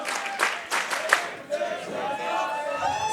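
An Inspire Pro wrestling crowd cheers and applauds after a six-competitor match, with bursts of clapping and shouts early that settle into a steadier murmur of applause, mixed under a commentator's voice.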